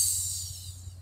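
A voice imitating a hi-hat with one drawn-out hissing "tsss" that fades over about a second, quiet and close.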